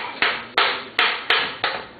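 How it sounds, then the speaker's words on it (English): A small hammer taps out the trigger locking pin of an MK19, giving five crisp metallic strikes at a steady, even rhythm, close and alone. "And you need to tap it. Once you tap it, the pin is going to come out."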